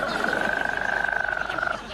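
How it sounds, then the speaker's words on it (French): A person lets out one long, loud, close burp, a croaking, rattling rasp that holds for nearly two seconds before fading out. "Il fallait que je rote."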